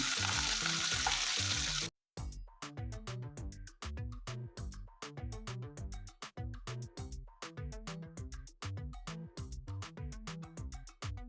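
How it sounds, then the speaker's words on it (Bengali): Onion browned in oil sizzles loudly with chopped tomato and ginger paste for a Bengali tel koi fish curry, a dense hiss lasting about two seconds before the sound cuts to rhythmic music with a steady beat. "এবার আমি কুচিয়ে রাখা টমেটোটা দিয়ে দিচ্ছি তার সঙ্গে আদা বাটাটাও দিয়ে দিচ্ছি"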